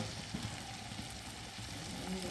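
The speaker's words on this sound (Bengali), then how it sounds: "এবার এটাকে কিছুক্ষণের জন্য ভাজতে দেওয়া হলো।" Mixed vegetables for a vegetable chowmein fry in a covered pan over a gas flame, giving a steady, even hiss of sizzling that runs unbroken throughout without any voices.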